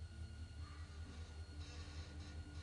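A train in The Walking Dead video game keeps up a steady, loud rumble with clacking and a constant low drone throughout, and no one speaks over it.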